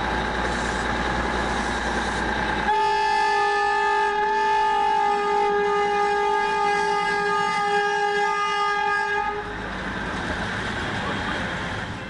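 A Darjeeling Himalayan hill train sounds a long, loud, steady horn blast of several minutes' worth of seconds, sustained for about seven seconds over rumbling running noise that continues after it stops.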